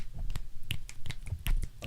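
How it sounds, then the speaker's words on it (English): Several fingers snap in quick succession, a cluster of sharp, close, dry clicks with short gaps between them, fairly quiet and not overlapped by any talk. "What do you know about the multi-snap"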